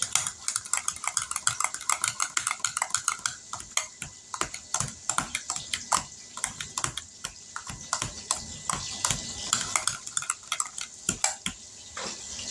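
A utensil clatters and scrapes against a pot while stirring food for a meal of hamburger steaks, mac and cheese and mashed potatoes, with rapid irregular clicks and knocks, close and fairly loud throughout.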